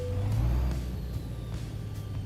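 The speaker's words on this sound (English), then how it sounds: "You can hear the brakes squeaking." Truck brakes squeak and hiss in American Truck Simulator: a loud low engine drone with a steady high squeal over it. A few soft clunks follow and no one talks.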